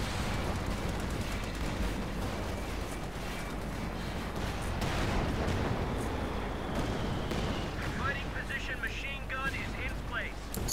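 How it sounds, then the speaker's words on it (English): Company of Heroes 2 tank battle between a Panzer IV and two M4C Shermans, heard as a dense, continuous rumble of cannon fire and explosions with scattered crackling shots, fairly loud throughout. "there's a fight between the Panzer IV and two M4C Shermans"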